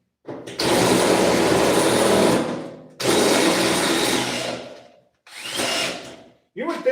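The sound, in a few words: drilling through sheet metal for a hood latch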